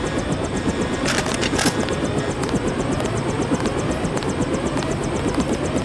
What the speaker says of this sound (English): Take the helicopter back to base